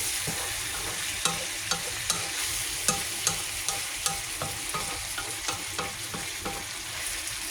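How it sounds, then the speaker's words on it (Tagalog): A spoon stirs chicken sinigang cooking in a pot, with a steady sizzle underneath and a regular series of sharp scraping knocks against the pot, close and alone. "Haluin natin."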